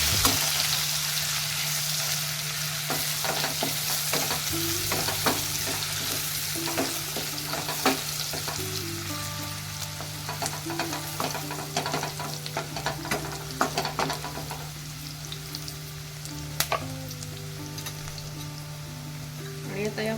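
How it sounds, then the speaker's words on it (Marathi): Finely chopped onion and curry leaves fry in a pan with a continuous close sizzle, punctuated by scraping stirs and a few sharper clinks as the mixture is turned, without talk. "त्यानंतर एक बारीक चिरलेला कांदा टाकायचा आहे त्यानंतर कढीपत्ता मिक्स करून घेऊया"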